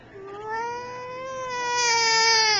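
A small child imitates an elephant with a single sustained, rising high-pitched trumpeting wail lasting a couple of seconds, fairly close and alone.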